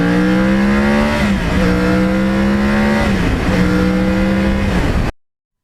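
Yamaha R1 crossplane motorcycle engine while riding on back roads: a loud, steady engine drone that rises in pitch and drops back at each gear change, repeating several times, alone without talk.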